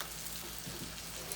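Cabbage frying in bacon grease on a Blackstone griddle gives a steady, soft sizzle with a few faint pops, close by and even throughout, with no talking.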